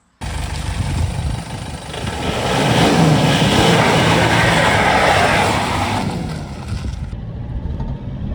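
A lowered Toyota Hilux pickup with its engine warning light on, driving: a loud, steady engine drone that swells for a few seconds and then eases back.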